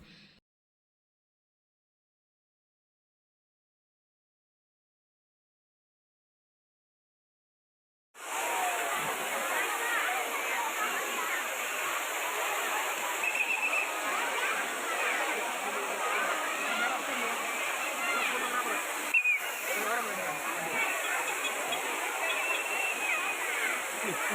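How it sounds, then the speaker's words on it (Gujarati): Water falling from fifty feet makes a steady, broad roar that rushes without a break after about eight seconds of near silence. "આ ધોધ પચાસ ફૂટ ઊંચાઈ પરથી પડે છે"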